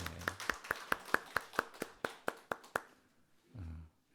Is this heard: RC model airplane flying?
no